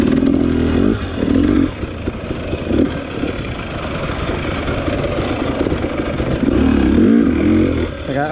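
A KTM XC-W dirt bike engine runs on a trail, loud and close, rising and falling with throttle and clattering over rough ground, with a few bursts of revving.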